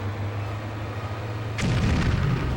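Partway in, a single loud explosion from a PlayStation 2 Stuntman driving stunt cuts over a low engine drone, followed by a heavy rumbling roar that carries to the end.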